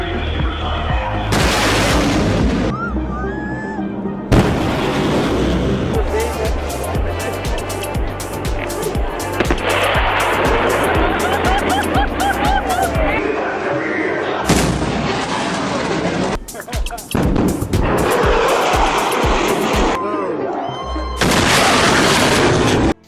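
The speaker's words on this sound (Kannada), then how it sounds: "ಒಂದ್ಸತಿ ಜೆಟ್ ಪ್ರೊಡ್ಯೂಸ್ ಮಾಡೋ ಸಾನಿಕ್ ಬೂಮ್ನ ಪ್ಲೇ ಮಾಡ್ತೀನಿ" A jet aircraft's sonic boom, heard as a series of loud, sharp booming blasts with abrupt cuts between them, layered over a low rumble with some broadband crackle.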